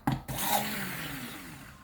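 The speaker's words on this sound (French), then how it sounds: "on va commencer à ajouter du lait tout doucement et battre en même temps. Soit vous prenez un batteur ou un mixeur" An electric mixer beating milk into crêpe batter, a brief clack at the start, then a steady loud whirring motor hum with a wet churning texture, continuing without talk.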